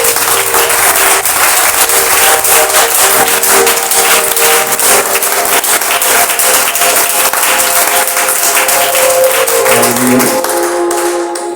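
A church audience applauds to acclaim Jesus in sustained, loud, dense clapping that continues steadily for many seconds, with a sustained musical tone underneath.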